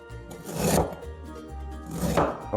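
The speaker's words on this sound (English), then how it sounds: "so take thin slices" A knife slices garlic thinly on a cutting board, giving two distinct crisp chopping cuts, close and moderately loud, with no talking.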